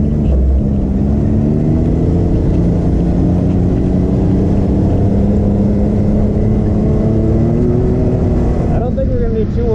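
A 200-horsepower 2021 Can-Am Maverick X3 X rs Turbo RR side-by-side with Smart-Shox drives steadily on a dusty trail, its turbo engine droning loud and continuous, with engine pitch shifting and a voice heard over it.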